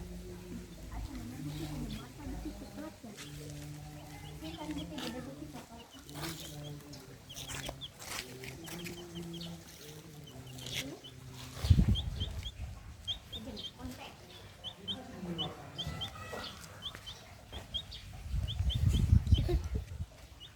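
A hen and her chick cluck and peep repeatedly, close by, with thin chick cheeps running through, while people talk over the birds throughout.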